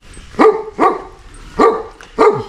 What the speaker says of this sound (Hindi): ये भी स्वागत का एक अंदाज है ना, बड़े प्यार से भौंकू कर रहे भाई